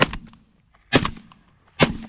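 Three loud, sharp shotgun blasts fired during a goose hunt, spaced roughly one second apart, each with a short echoing tail and no talk between them.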